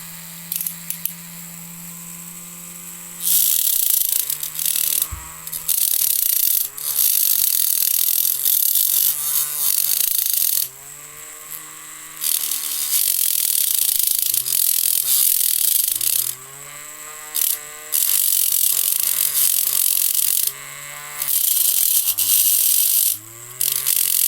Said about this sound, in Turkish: şimdi bir de böyle bir zımparamız var. Zımpara taşımız var. Bir de onu deneyelim.